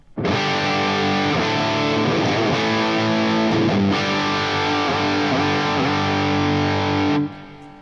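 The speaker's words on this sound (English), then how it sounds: "we have here only the Marshall without any boost, and there's a PCM91 on a Deep Blue settings" A distorted electric guitar rings out through a Marshall amplifier with no boost and a Lexicon PCM91 reverb on a Deep Blue setting, sustained chords played continuously for several seconds before cutting off.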